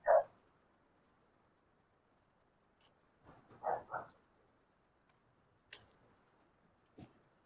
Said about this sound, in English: we cannot get this dog to stop barking at me